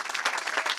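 Audience applause at a political conference in Verona, a dense, steady wash of many hands clapping, fairly loud and continuous through the brief moment with no voices over it.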